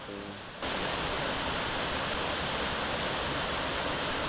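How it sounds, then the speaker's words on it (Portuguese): Waterfall nearby, a constant broadband roar of falling water that swells in abruptly after a brief quieter moment, then holds steady and fairly soft. "Olha pra cachoeira."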